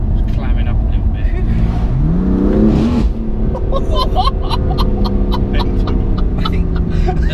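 A 550bhp BMW M4 with a decat exhaust revs hard, its engine note climbing in pitch for a couple of seconds before cutting off. Steady drive rumble and wind noise follow from inside the car.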